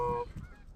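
A goose flying in over a hunting field gives one clear, nasal honk, loud at first and then trailing off.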